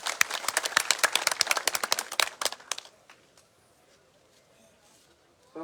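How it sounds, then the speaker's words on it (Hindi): Enthusiastic audience applause welcoming a speaker at a Haryana village political rally, dense clapping for about three seconds before fading into quiet crowd ambience. "तालियों के साथ स्वागत।"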